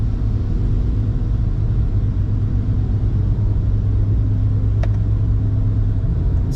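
Inside a BMW 135i with an N54 engine and a converted 8HP45 automatic transmission, a loud continuous low engine rumble carries steadily through the gears under hard acceleration, heard from the cabin with no voices.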